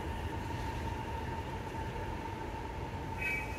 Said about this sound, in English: Just waiting for the train to go by.